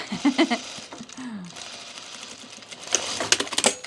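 A sewing machine stitching an enclosed French seam on a Deer and Doe Magnolia dress, heard in short rattling bursts at the start and again near the end, with quieter stretches between.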